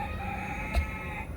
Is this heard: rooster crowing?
yes